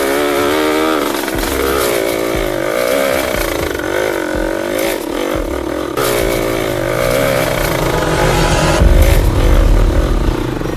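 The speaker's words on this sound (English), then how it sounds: "the engine roaring" A dirt bike engine roars loud and close on a rugged trail, revving and clattering continuously for the whole stretch, with pitch rising and falling as the throttle changes.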